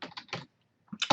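Typing a terminal command on a computer keyboard, two quick clusters of close, crisp key clicks separated by a short pause, with no talk.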